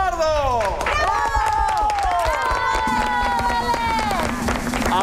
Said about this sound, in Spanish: Vamos por los aplausos y algarabía para Valeria Guajardo.